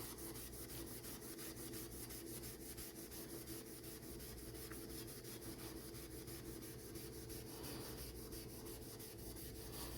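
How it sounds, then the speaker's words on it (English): Steel wool scrubs rust off the metal of a Delta 654 or 307 jointer, giving a continuous, fairly quiet scratchy rubbing in quick repeated strokes over a steady background hum. "now I'm going to try some steel wool"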